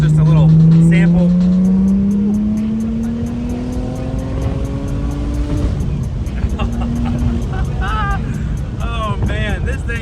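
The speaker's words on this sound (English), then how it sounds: "This car is tuned to around 24 pounds a boost, and paired with this exhaust, it sounds incredible." A tuned Audi B5 S4 running about 24 psi of boost, heard from inside while driving. Its exhaust drones loudly as the engine pitch climbs through a gear, drops with a shift, and rises again, with faint chirps from the turbo and background talk.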